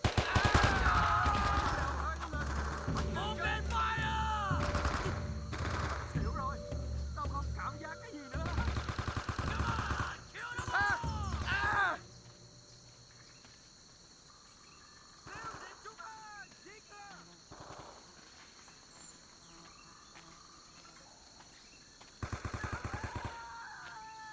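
Automatic and semi-automatic gunfire in the Vietnam-era game Men of Valor, with dense rattling bursts during the first twelve seconds, then sparse distant shots and a final burst, with soldiers shouting in between.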